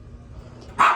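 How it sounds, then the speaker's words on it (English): A single sharp dog bark at the very end, fairly close, after a moment of quiet low rumble. "Excuse my dog barking in the background."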